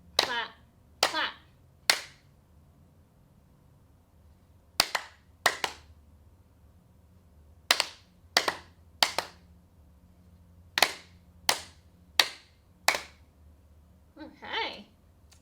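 Hand clapping in an online dance class for people with Parkinson's: crisp, close claps in short rhythmic groups of three and four, separated by brief pauses, with a faint voice near the end.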